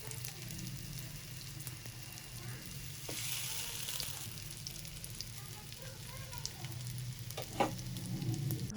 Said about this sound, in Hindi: हम बहुत ज़्यादा तेल में इसको फ्राई नहीं कर रहे, इसको हम बिल्कुल शैलो फ्राई करेंगे।